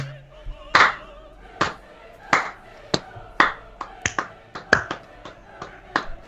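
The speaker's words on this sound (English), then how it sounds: "Some more claps." About a dozen sharp, separate hand claps spaced irregularly over several seconds, close and crisp, heard alone with a faint hum at the start.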